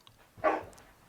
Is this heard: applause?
no